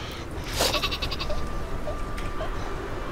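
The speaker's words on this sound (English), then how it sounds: "I hear a sheep" A single sheep in the video game Worms W.M.D. bleats briefly, followed by faint repeated bleats over a low background hiss, thin and slightly distant.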